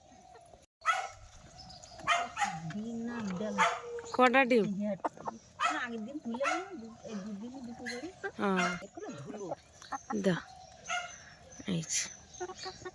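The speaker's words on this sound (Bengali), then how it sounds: "ওদিকে পাপ্পি ডাকছে, দেখেছো?" A puppy yelping and barking in short high-pitched bursts, close by and on and off throughout, with people talking over it.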